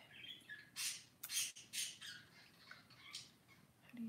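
Pet birds squawking indoors, several short harsh calls in a loose burst, faint and somewhat distant, with no talk over them.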